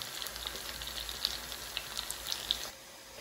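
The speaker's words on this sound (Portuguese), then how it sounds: "Enquanto a nossa cebolinha está a fritar" Onion frying in olive oil with a bay leaf for a Portuguese salt cod dish: a steady close sizzle with fine crackling pops throughout, fairly faint, easing off near the end, no talk.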